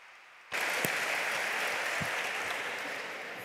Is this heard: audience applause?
yes